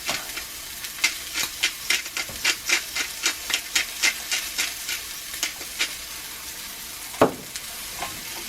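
Steak cooking in a cast iron pan: a rhythmic series of scraping, stirring strokes over a low frying sizzle, close by, with a sharper knock near the end and no voices.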